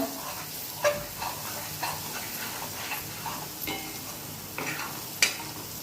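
Jackfruit curry frying in oil crackles softly and steadily while a spatula stirs it, with occasional sharper clicks of utensil against pan over a faint hiss.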